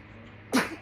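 A single short sneeze bursts out over a low steady background hum.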